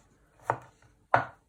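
Two crisp knife chops through garlic onto a cutting board, close and distinct, about half a second apart in an otherwise quiet kitchen.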